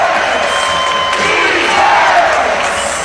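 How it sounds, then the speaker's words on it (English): Basketball arena crowd late in a tight WNBA-style game with the Aces, a loud dense roar of many voices rising in a chant, close and continuous, with faint commentary underneath. "Crowd chanting defense"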